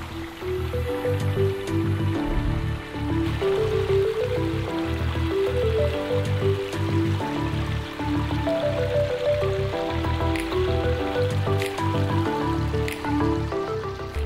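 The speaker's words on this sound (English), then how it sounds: "This is just a good entry-level pond with a short stream" Water trickles and burbles steadily along a short, narrow stream feeding a shallow 8x10 garden pond, a continuous close babble with no pauses and no voices.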